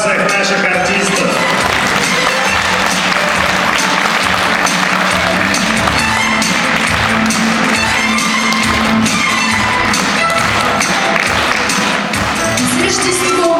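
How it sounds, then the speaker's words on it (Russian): A large audience gives a long, loud, sustained ovation for stage performers at a Christmas concert, dense clapping continuing steadily throughout with crowd noise underneath. "Друзья, давайте еще раз искупаем в овациях наших артистов."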